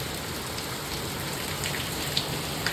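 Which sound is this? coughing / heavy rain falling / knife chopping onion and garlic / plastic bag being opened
heavy rain falling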